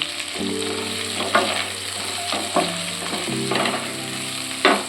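Sliced onion and garlic fry in hot oil with a loud, steady sizzle, broken by occasional spatula scrapes and stirring knocks, close up, with a low hum underneath and no talking.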